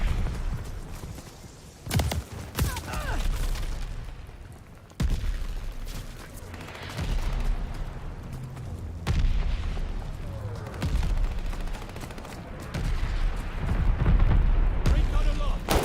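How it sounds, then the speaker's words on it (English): Mortar explosions and gunfire in the video game Call of Duty Vanguard, several heavy booms landing among continuous rumbling battle noise, loud and dense throughout, with voices talking over the action. "Mortars incoming."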